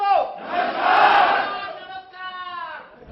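A crowd of about 200 people at a business training program shouting a greeting in unison, a loud sustained chorus of voices that swells and then fades.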